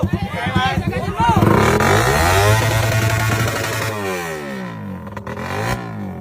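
A motorcycle with a loud aftermarket exhaust, fuel-injected, revs hard at close range at a motor show, the engine note rising and falling through sustained blips while people talk over it.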